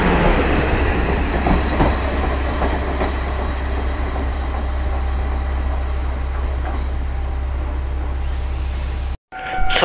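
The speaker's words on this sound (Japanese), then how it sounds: "こちらのキハ54-1と、カッパウヨウヨ号、イコールウジャウジャ号ですね、の方が発射しますので" The KiHa 54-1 diesel railcar departs a station with a loud, steady engine drone and rolling rail noise building nearby, cut by a brief dropout near the end; no speech.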